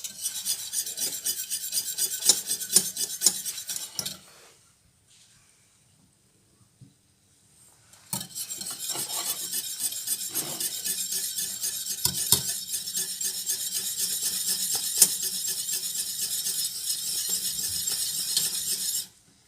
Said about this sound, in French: On va remuer environ pendant 8 minutes, ça va s'épaissir.